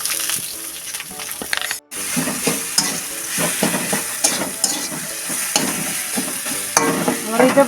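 Spiced potato fries in a pan, sizzling steadily while a spoon stirs and scrapes in repeated strokes, close and alone, with no voices.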